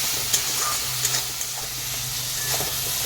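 Spice paste of ground cumin and chili with turmeric and salt fries in a pan for a thin hilsa fish curry, a steady close sizzle broken by a few soft stirring scrapes, with no talking.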